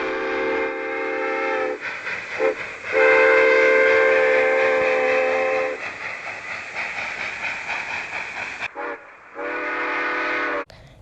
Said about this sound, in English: 2475 keeps racing by Niles Canyon at very fast speeds, ringing its bell and blowing its whistle at very fast speeds.